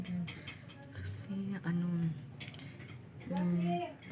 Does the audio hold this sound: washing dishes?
yes